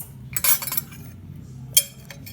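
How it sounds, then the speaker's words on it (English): A spoon stirring clay colour in a bowl gives two short bursts of metallic clinks and scrapes, close and fairly crisp, with no talking. "To mix, you can use a spoon and a bowl"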